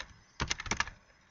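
Fingers type a quick burst of keystrokes on a computer keyboard while entering Visual Basic 2008 code, a close, soft clatter of about a half-dozen clicks with no talking.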